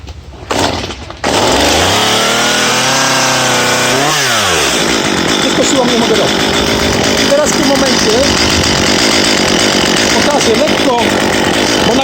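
A chainsaw engine sputters, pulls through a rising rev, then settles into a loud, steady run close by, with the chain saw idling roughly for the rest of the clip.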